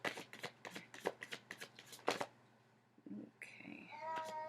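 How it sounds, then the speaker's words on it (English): Tarot cards shuffled by hand in a few quick riffling bursts, close and crisp, followed by a brief pause and a faint electronic chime. "I just always do a quick couple of shuffles before I pull."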